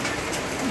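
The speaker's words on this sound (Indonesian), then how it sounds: "Hujan om." A brief stretch of rain pours steadily outdoors at a funeral at Tongkonan Layuk Tumika Lemo, a continuous close hiss of drops with no clear talk.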